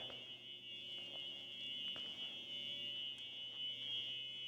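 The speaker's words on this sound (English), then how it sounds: "Just hearing the alarm buzzing." A fire alarm in an abandoned mall buzzes with a steady, piercing electronic tone that echoes through the empty building. It is faint and continuous, with a few light thumps in the background.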